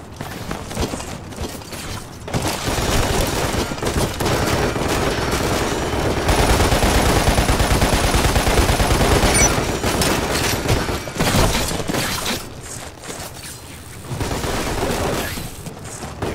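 Sustained gunfire and explosive weapon blasts from a rocket launcher in the PC multiplayer match of Lost Planet: Extreme Condition, set in a construction yard; dense, loud and continuous for most of the stretch, easing briefly near the end.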